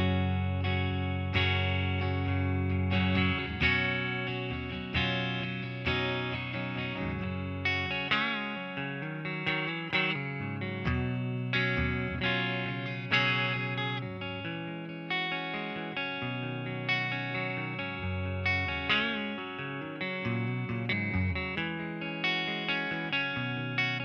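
Electric guitar played through a Marshall DSL40C 40-watt all-valve combo on its clean channel, gain and volume at half, with reverb: sustained chords and picked notes ringing steadily alone for the whole stretch.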